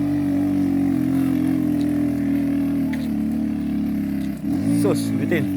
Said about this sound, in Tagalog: Hirap na hirap yung tricycle.